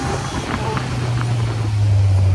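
A Kawasaki Z900 motorcycle's engine drones steadily and low while riding a valley road near Mussoorie, a constant rumbling hum with some wind noise that grows slightly louder toward the end.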